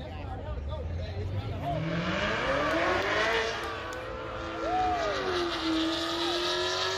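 An all-wheel-drive turbo Audi, the brand's largest sedan, racing a rear-wheel-drive Cadillac at Texas Motorplex: engines rise and sweep upward in pitch through the run, loud and steady, with tire noise and crowd ambience.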